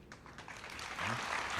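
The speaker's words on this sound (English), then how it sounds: "Thank you for clapping for that word at least." Audience applause in a hall at a spiritual discourse, a broad wash of clapping that starts faint and swells louder toward the end, with no voices over it.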